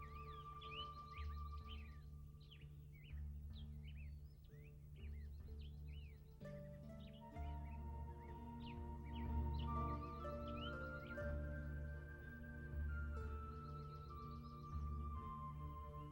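Birds sing and chirp at the Palenque archaeological site, repeated short whistled calls over a steady low hum, with soft musical tones rising behind them.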